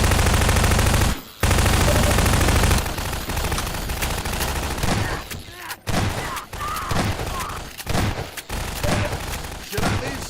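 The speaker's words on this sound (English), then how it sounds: "Using a shotgun at long range." Shotgun blasts fired at long range in Metroid Prime 4: Beyond, a loud stretch of rapid gunfire followed by scattered booming shots and impacts, mixed with game sound effects and occasional voices.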